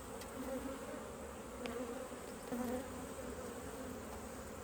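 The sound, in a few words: honey bees buzzing in an open hive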